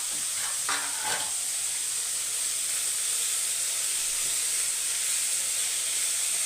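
Vegetables and soaked green gram sautéing in a pan for a dry stir-fry, giving a steady, close sizzle and hiss with a few brief scraping stir sounds early on, no voices.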